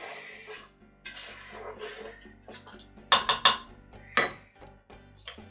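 Prawn curry being stirred in a pressure cooker pot: a spoon scrapes and clinks against the metal, with several sharp knocks clustered midway and softer rubbing sounds between, close and intermittent, no voices.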